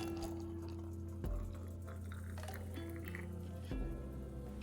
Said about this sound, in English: Pour the hot water over the beans